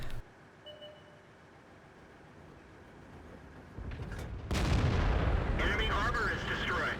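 A tank cannon shot from the T32 tank in World of Tanks, a heavy booming blast partway through followed by a rumbling tail and further battle noise.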